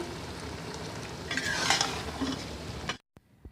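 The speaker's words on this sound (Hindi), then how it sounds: "सारी बंद गोभी मैंने डाल दी है और तकरीबन इसको मैं 5 मिनट के लिए कुक करूँगी" Cabbage is stirred in a hot pot, a steady close sizzle with scraping utensil strokes that stops abruptly near the end, leaving a couple of faint clinks.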